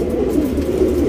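A striped male pigeon coos in low, continuous throaty rolls, close and fairly loud, with no other sounds standing out.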